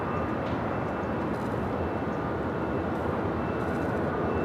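An airliner taxis at LAX toward the north side, its engines giving a steady, broadband rumble and whine that holds evenly throughout at moderate distance, with no talk over it.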